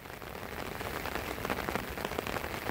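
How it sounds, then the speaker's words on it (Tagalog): Heavy rain pouring steadily onto a surface over flooded rice paddies and fish ponds, a dense, continuous hiss with close patters of drops and no voices. "Sana po tumigil na yung ulan."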